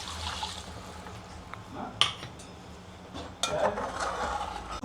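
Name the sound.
pouring water into the masala pan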